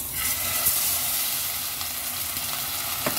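Salmon marinated in salt, pepper, MSG and tapioca starch frying in hot oil, a loud, steady, bright sizzle that crackles continuously, with a few sharper pops near the end.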